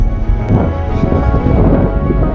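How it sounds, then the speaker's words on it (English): Strong wind blowing straight down a running trail, a constant heavy rumble of gusts buffeting the microphone, loud and close throughout. "The wind is coming straight down through this trail directly at me."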